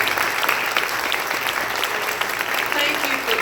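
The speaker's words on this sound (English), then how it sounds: "let us give you all a round of applause." A civic league candidate forum audience gives steady, dense applause that runs close and loud for the whole stretch, with a voice faintly under the clapping.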